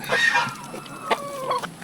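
Chickens clucking nearby in short bursts, with a few sharp higher calls cutting through a quiet farmyard background.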